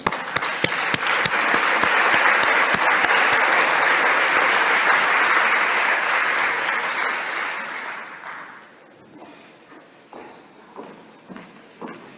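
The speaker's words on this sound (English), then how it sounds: "Sous vos applaudissements." An audience at the opening ceremony of the 2022 World Forestry Congress breaks into loud, full applause that holds for about eight seconds, then thins out to scattered claps and small noises.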